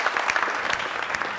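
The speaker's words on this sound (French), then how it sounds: "Plus d'applaudissements pour notre artiste" Audience applause for the artist Francky Gold at a televised show in Kouritenga, a steady dense clapping that fills the short moment without any talk.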